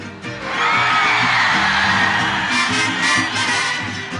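A large crowd at a ranchera concert roars, shouting and cheering loudly and continuously, with whoops rising above the dense, sustained wall of voices.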